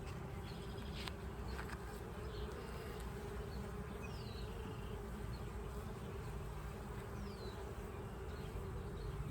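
Honey bees drone steadily around an open nine-frame beehive, a dense continuous buzz with occasional single bees passing close, no voices.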